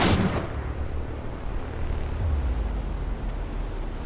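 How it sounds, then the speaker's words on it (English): Heavy battle din from the Iron Harvest strategy game, with a sharp blast at the start trailing into a continuous low rumble of distant artillery and gunfire throughout. "They're shooting at us!"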